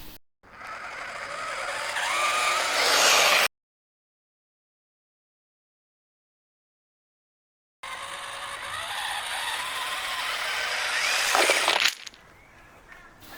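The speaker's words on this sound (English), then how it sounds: "I'm going to use the FPV goggles and try to drive the tank into this" An RC tank drives outside with a whirring, ratcheting gear and track clatter in two sustained bursts separated by a long silent gap.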